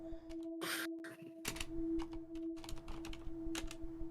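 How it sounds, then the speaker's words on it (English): Fingers type quietly on a computer keyboard, giving a soft, irregular run of clicks over a low steady hum, with no talking. "It's a good thing you're doing the typing and not me."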